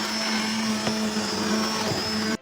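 A blender purées cooked pumpkin soup with mushrooms in one loud, steady, close whir that holds without pause for over two seconds, then cuts off abruptly.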